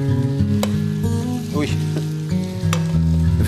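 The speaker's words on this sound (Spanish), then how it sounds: "Vamos a freír la cebolla." Onion frying in a pan, with bacon nearby, a steady close hiss and sizzle that runs under loud background music and a brief exclamation.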